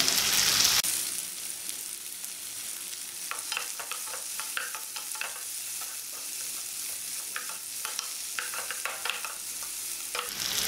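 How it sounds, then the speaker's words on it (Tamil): Tomatoes salted and sautéing in a pan for radish chutney, a steady soft sizzle after a brief louder start, with intermittent scraping clicks of a spoon stirring through the middle and end. "உப்பு சேர்த்தோம்னா சீக்கிரம் தக்காளி வதங்கிடும்"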